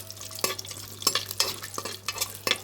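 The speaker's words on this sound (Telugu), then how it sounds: "dry fruits golden brown colour వచ్చేదాకా వేయించుకోవాలి" Dry fruits such as cashews and raisins frying in ghee, with soft sizzling and several distinct stirring scrapes spaced across a few seconds, close by with no talk.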